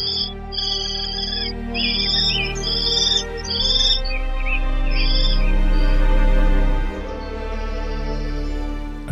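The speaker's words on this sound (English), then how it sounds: "And after a while, the occasional small bird." A small bird near a kestrel nest box at Lemsford Springs gives several short bursts of high chirps in the first few seconds, over a steady low background hum.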